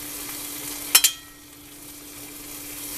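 Pasta water boiling over from a pot onto a hot pan: two quick sharp sizzling hisses in close succession, then a fading crackle over a quiet background hum.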